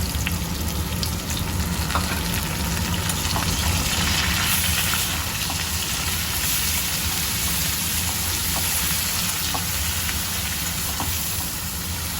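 Paste of garlic, onion and green chili frying in a pan, giving a steady, loud, close sizzle that stays even throughout with faint crackles and no talk over it.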